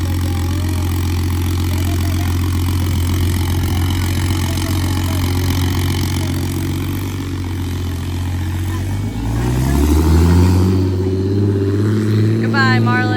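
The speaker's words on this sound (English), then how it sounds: "It's an 1100 horsepower Supra." A supercharged 1100 horsepower Toyota Supra engine idles with a steady low rumble throughout, then revs up near the end, its pitch rising, with people talking nearby over the running engine.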